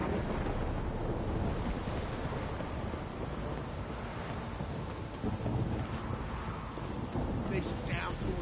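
Heavy rain pours down in a constant dense roar, with low rolling thunder rumbling underneath; a few faint higher sounds break through near the end.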